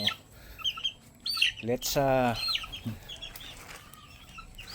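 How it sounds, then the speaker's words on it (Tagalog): Gamefowl chicks freed from a small cage, with high peeping and squawking chirps and a loud rooster-like crow in the middle, under a man's brief speech. "maglagay tayo ulit ng mga sisiw para makalaya sila sa kanilang munting hawla"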